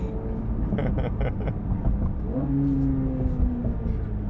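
A Chevrolet Corvette C8 Z06 engine drones loudly from close by, then its pitch sweeps as it drops a gear and settles into a lower rumble.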